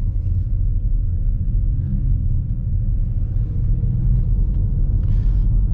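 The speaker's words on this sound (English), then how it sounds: "Propulsion sound is on." A Ford Mustang Mach-E GT electric car's artificial propulsion sound while driving: a loud, steady, low rumbling drone filling the cabin throughout, with no variation in pitch or strength.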